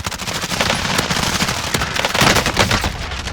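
Dense bursts of automatic gunfire from Call of Duty Warzone crackle in rapid, loud volleys for several seconds, with no talk over them.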